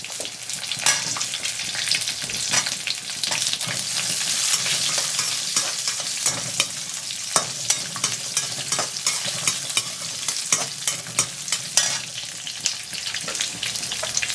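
Small shallots, ten or twelve of them, frying in a pan for spinach kootu, giving a bright, dense sizzle throughout with frequent sharp crackles and pops at close range; no one speaks.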